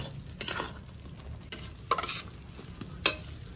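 Fried potatoes going into a home-style curry pan with fried taro, stirred with a spoon, giving soft frying sizzle and a few sharp scrapes and clinks against the pan, close and fairly quiet.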